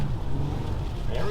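Lexus car in snow with the engine revving hard under full throttle while its wheels spin without grip, a steady loud drone close by with a brief rising whine near the end and a voice speaking over it.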